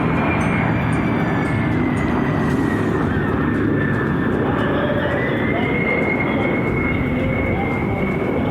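Vintage bombers, including a B-25, B-17, B-29 and B-52, fly over at an air show, a loud sustained engine drone with a slowly shifting whine that fills the whole stretch without a break.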